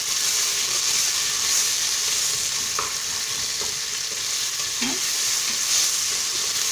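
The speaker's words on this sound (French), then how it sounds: "à feu fort, on va faire rissoler un petit peu nos oignons" Onions and garlic sauté in a pan over high heat for a pumpkin and carrot soup, giving a steady close sizzle with a few soft stirring scrapes and no talking.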